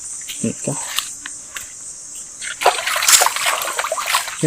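Hands are rinsed under water after scrubbing with a homemade ridge-gourd loofah, with a few soft taps first and then a steady splashing and sloshing of water for the last couple of seconds.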